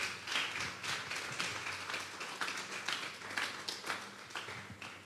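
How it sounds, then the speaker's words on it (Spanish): A congregation at a Sunday church service claps steadily in sustained applause, moderately loud, with a hall's reverberant wash. "Denle un fuerte aplauso pues al Señor."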